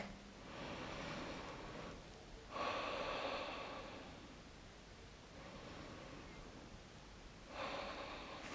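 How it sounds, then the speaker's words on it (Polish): Slow, soft breaths during a seated chair yoga session: a few drawn-out inhales and exhales, each a gentle, airy rush, close but faint, with quiet pauses between them. "dwa oddechy."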